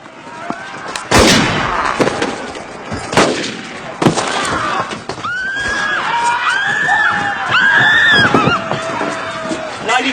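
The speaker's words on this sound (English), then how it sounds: "Shoot him, Smithers." Gunshots in a period drama set in a church during the Napoleonic wars: loud sharp reports near the start and middle, among shouting, a horse whinnying and general commotion.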